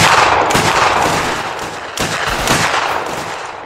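Rifle fire from a skirmish line in a Mount & Blade Anglo-Boer War battle, a dense, loud, continuous crackle of overlapping shots with a fresh volley partway through.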